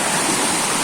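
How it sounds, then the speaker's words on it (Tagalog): A strong river current rushes in a steady, loud, broadband roar, close and unbroken, at a river in General Nakar, Quezon. "Kaya lang medyo malakas din ang current."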